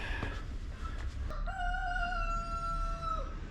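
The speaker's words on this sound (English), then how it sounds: "Good morning again, says the rooster." A rooster crows once on the Greek island of Syros, a clear, fairly distant, drawn-out call of about two seconds rising over steady outdoor ambience.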